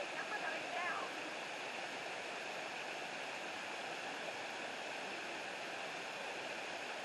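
A waterfall pours in an unbroken, even roar of rushing water that fills the whole stretch at moderate distance, with only faint hints of activity around it.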